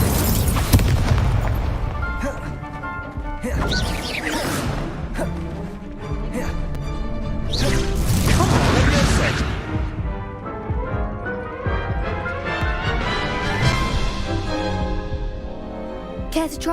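Spell combat in the Hogwarts Legacy video game, with the Incendio fire spell cast amid loud booming bursts and crackling impacts, several explosive hits over dense game music and effects.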